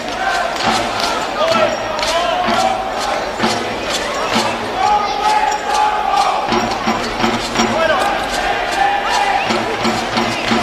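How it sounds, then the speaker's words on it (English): Football crowd at Wynn Stadium in Wollongong cheering and shouting in a sustained roar during a Wollongong Wolves v Hakoah Sydney City East match, with a commentator talking over it. "You can hear the fans cheering"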